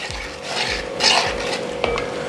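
Repeated scraping strokes of a spoon stirring cobia fish curry in a pan, about five or six passes, with a soft sizzle underneath and an occasional clink of metal.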